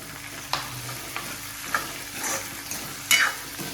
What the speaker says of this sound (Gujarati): હવે આપણે જો ટામેટા નાખી દઈશું સરસ થાય છે